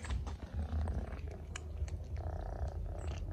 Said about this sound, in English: The mommy is purring.